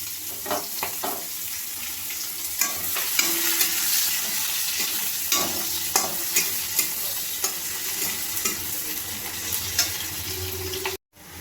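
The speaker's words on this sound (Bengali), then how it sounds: "আমি যে পেঁয়াজ কেটে রেখে দিয়েছিলাম সেই পেঁয়াজ আমি দিয়ে দেবো কড়াইয়ের মধ্যে, দিয়ে ভালোভাবে ভেজে নেব পেঁয়াজটাকে।" Chopped onions fry in a wok, sizzling steadily while a spatula scrapes and stirs them in repeated sharp clacks, close and clear.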